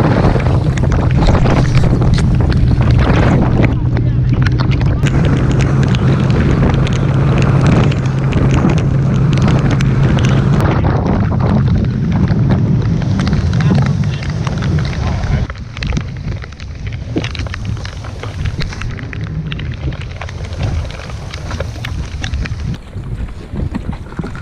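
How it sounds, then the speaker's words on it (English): Rain falls outdoors on an early morning musky fishing outing, a continuous broadband hiss mixed with gusty wind buffeting the microphone, easing somewhat in the latter half. "it's definitely raining"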